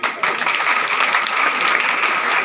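A school audience claps at an annual function and talent award ceremony in Churu, a dense, even burst of many hands applauding loudly and continuously.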